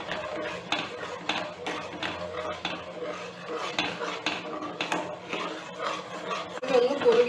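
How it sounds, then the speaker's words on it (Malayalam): A spoon stirs a thickening milk base for fruit salad in a pan over a flame, making repeated close scraping and clinking strokes at a steady rhythm, with no talking. "ഇനി നന്നായിട്ട് ഇളക്കി കൊടുക്കാം"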